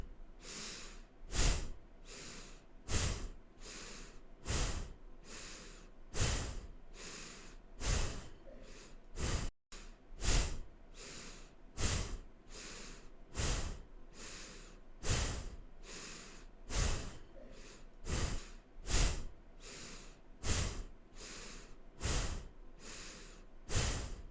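Deep, forceful breaths during a kundalini yoga leg-raising exercise: sharp, even inhales and exhales in a steady rhythm, about one each second, loud and close, with no talking.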